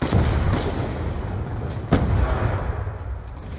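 Gunfire from a video game weapon called the Peacekeeper, a dense burst of sharp shots near and loud at the start, then a single sharp crack and fading echoes.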